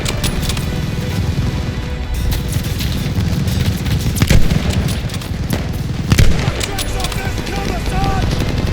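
Machine gun fire in the World War II shooter Call of Duty: Vanguard during the Operation Tonga mission, steady loud bursts of automatic fire with heavy booms and battlefield rumble, with voices shouting over the combat.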